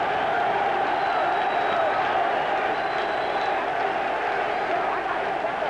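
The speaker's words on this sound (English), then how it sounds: "And a German crowd loves it." A German crowd at a world title boxing fight makes a steady roar of cheering and noise, continuous and fairly distant, with a commentator talking over it.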